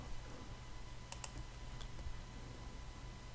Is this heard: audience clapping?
no